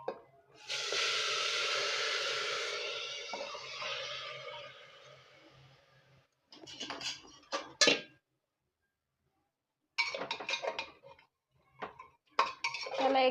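Chicken being stirred in a cooking pot brings bursts of metal clanking and scraping from a utensil against the pot, first a long sustained stretch, then several short irregular clinks separated by quiet gaps.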